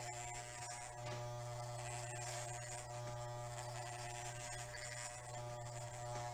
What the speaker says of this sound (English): You have to be careful so that you don't make the clipper go too low, so that you don't cut too much hair